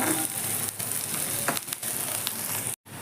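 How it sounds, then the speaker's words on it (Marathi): Chopped curry leaves and spices frying with onion in a pan for paneer bhurji, a close, continuous hiss and crackle with a few stirring scrapes, cut off by a brief silence near the end. "कढीपत्ता चांगला मिक्स करून भाजून घेऊया"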